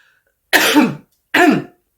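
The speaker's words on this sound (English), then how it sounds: "I'm still coughing" Two sharp coughs from one person, close and loud, each a short harsh burst about half a second apart with silence between.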